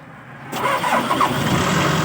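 A Toyota BU25 truck engine rated 85 HP starts after glow-plug preheating: half a second of near-quiet, then the engine cranks and catches abruptly, settling into a loud, steady rough idle nearby.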